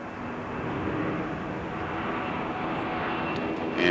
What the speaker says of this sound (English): This camera view from the belly of the L-1011 as the landing gear are tucked inside